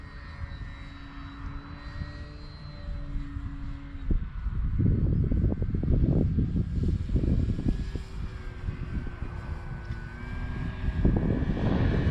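A Cermark Fantasy Flyer model airplane's small engine drones steadily, its pitch shifting and then rising into a louder, rougher buzz as if revving up nearby, with no talking.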